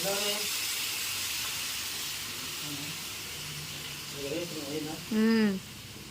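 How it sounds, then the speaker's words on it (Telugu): Spiced chicken pieces cook in a pot after a little water is added, producing a continuous soft hiss and simmer while someone talks over it. "ఈ చికెన్ ఉడకడానికి కొద్దిగా వాటర్ వేసుకుంది"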